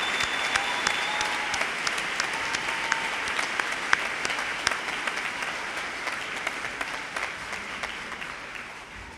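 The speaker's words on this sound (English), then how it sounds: "A round of applause for all of our bachelor's degree students." Audience applause at a university honors convocation for graduating bachelor's degree students, a sustained burst of many hands clapping with sharp individual claps poking through, fading slightly toward the end.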